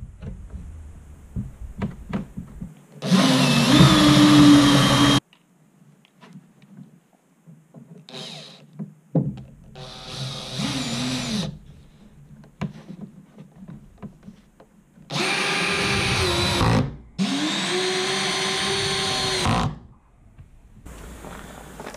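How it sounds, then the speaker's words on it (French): Power drill pre-drilling into a wooden ceiling plank, several bursts of steady whirring of a few seconds each, close and loud, separated by quieter handling noises and creaks. "Donc je suis en train de percer, pré-percer, pour pallier un peu à ça"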